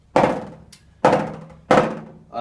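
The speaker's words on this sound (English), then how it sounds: "So that's the multiple bounce roll." Three short, buzzy snare press rolls, each a quick crush of bounces that decays before the next, evenly spaced.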